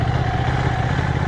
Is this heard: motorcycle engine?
yes